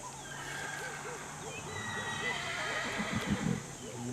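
Horses in a paddock whinny in repeated rising and falling calls, with some hoof thuds near the end, mid-distance against steady outdoor background noise; a person may be speaking faintly underneath.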